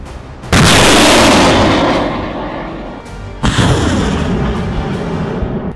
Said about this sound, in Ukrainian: Розрахунок наводиться на ціль та робить перші постріли по російській техніці.